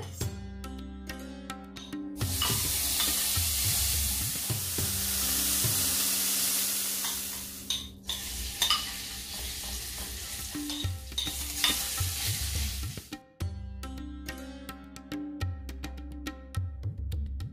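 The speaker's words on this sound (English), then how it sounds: "So I'll start frying." Loud, continuous sizzling of fish frying in hot oil in a pan, broken twice by short quiet pauses and scraping stirs, with crackling spatters throughout.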